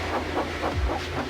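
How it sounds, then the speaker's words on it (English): Edward, a steam engine, puffs with a hissing, rhythmic chuff of steam as he gets underway. Soft repeated bursts sit over a low rumbling background, fairly close and moderate in level. "So they lit his fire, made lots of steam, and Edward puffed away."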